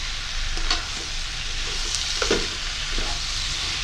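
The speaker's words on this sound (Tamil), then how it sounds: "சாம்பார் பொடியை போட்டு எல்லா இடமும் நல்லா படக்கூடிய வகையில் இதை வந்து கிளறி விடுங்க." Sambar powder is stirred into sambar in a pan, giving a steady sizzle with scraping spoon strokes throughout, close and moderately loud, with no talking.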